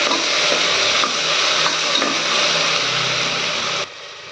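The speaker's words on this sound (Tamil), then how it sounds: "ஒரு ஸ்பூன் இஞ்சி பூண்டு பேஸ்ட்டு போட்டுடலாங்க நல்லா போட்டு இது நல்லா வதக்கலாம்" Ginger-garlic paste sizzles and fries in a pan for beetroot biryani, a steady close hiss with occasional soft stirring scrapes, cutting off abruptly near the end.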